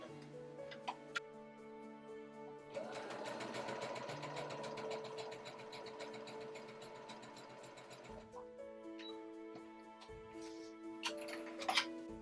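A domestic sewing machine runs a zigzag stitch at a 3 stitch length, its motor humming with a steady rapid ticking for several seconds, then slowing and stopping, with a few light clicks afterward.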